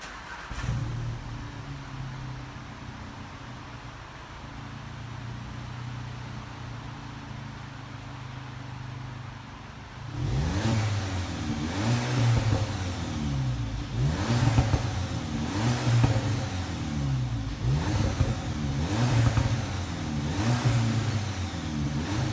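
A Volkswagen Polo GTI engine without a petrol particulate filter idles low and steady, then fires up into repeated revs, rising and falling in a rhythmic pattern, loud and close.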